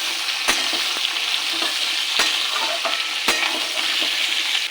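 Green chilies and drumstick pieces sizzle steadily in a pan of oil for a shukto, with occasional sharp scrapes and taps of stirring breaking through the continuous frying hiss.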